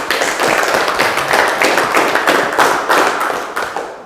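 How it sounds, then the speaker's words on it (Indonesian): A group of students in a classroom claps hands after finishing a group discussion in an economics lesson, a steady close burst of many overlapping claps lasting several seconds with little talk. "Tepuk tangan untuk kita semua."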